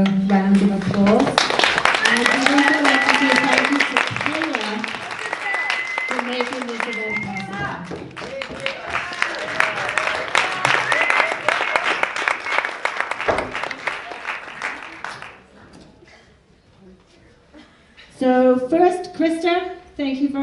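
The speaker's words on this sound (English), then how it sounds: "give them another round of applause." Audience applause for authors on stage at a NEDx ideas event, a burst of clapping from the crowd mixed with a loud, close voice talking over it, then a quieter gap before more voices.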